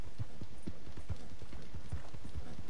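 Steady, rhythmic clip-clop of horse hooves on hard ground in Red Dead Redemption 2, fairly close and continuous, with a faint airy background hiss.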